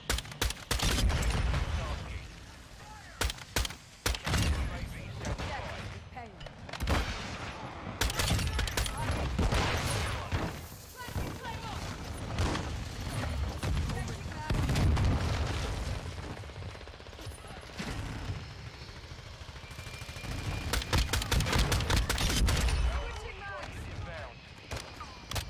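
Rapid gunfire bursts from a marksman rifle and other guns in the first-person shooter Modern Warfare II, loud and repeated in clusters across the clip, mixed with explosions and a talking voice.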